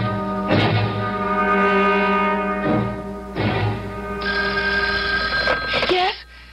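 Old telephone bell ringing in a CBS radio mystery drama, repeated bursts of a harsh electric ring with short pauses between them, loud and close, then cut off by a pickup at the end.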